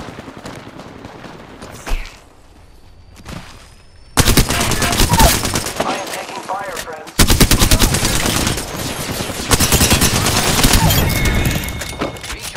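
Rapid automatic gunfire in the battle royale shooter Apex Legends, with long sustained bursts of dense, loud shots that stop and start again after a short gap, and brief in-game voice lines under the shooting.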